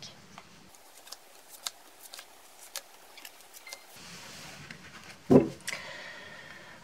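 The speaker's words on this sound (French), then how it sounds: "je coupe, j'étale le jeu et je vous en choisis 5" Tarot cards are cut and spread across a table, giving soft, papery flicks and light taps at a low level, then a brief louder rustle near the end.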